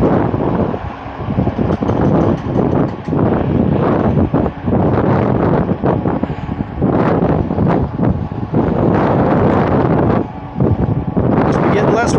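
Heavy wind blasts the microphone in continuous loud rumbling roars, with voices partly buried beneath the buffeting.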